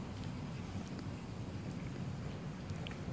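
Steady rain hisses while low thunder rumbles faintly underneath, a continuous, fairly quiet storm with no voices.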